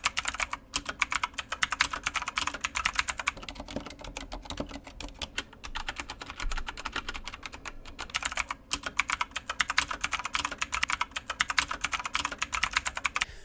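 Rapid, continuous clicking of keys on a Redragon K560 HARA mechanical keyboard, close and steady, with brief pauses between flurries of typing.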